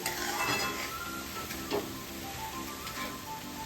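Mahua fruit vegetable with peas is stirred in a frying pan, a continuous close sizzle under repeated scraping and clinking of a spatula against the pan.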